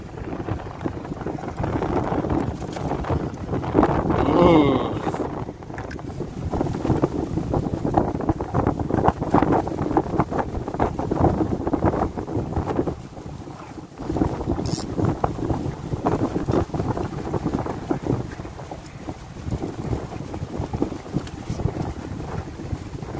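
Strong wind buffeting a small fishing boat anchored at sea off Thailand, a continuous rough roar that gusts throughout with no talk.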